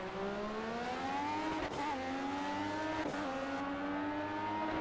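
Steady, loud LMP1 prototype race car engine from the Project CARS racing game, its high harmonic whine rising and dipping through gear changes and corners, continuous and close with no talk.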